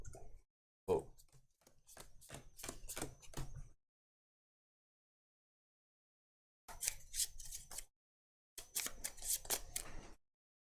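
Cards for the Arkham Horror card game are shuffled in quick riffling bursts, two long runs of rapid crisp snaps separated by quiet pauses, close and clear with no talk.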